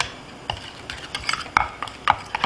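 Sifted flour is stirred into egg yolk in a bowl, light rhythmic taps and clicks of a whisk or utensil against the bowl, quiet and close, about six distinct strokes.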